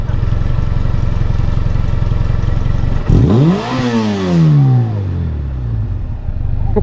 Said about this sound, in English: Check out the reaction of these young ones when the biker allowed them to rev his bike.